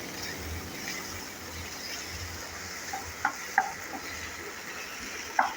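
Boiled potatoes heating in a pan, stirred with a utensil, giving a soft continuous sizzle with a few distinct scraping clicks toward the end.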